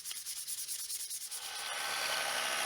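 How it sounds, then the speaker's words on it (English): Close, steady rubbing of 400 grit sandpaper over a blade surface, rhythmic back-and-forth strokes that blend into a continuous scratchy hiss. "I have to use some 400 grit sandpaper to smoothen the surface of the blade."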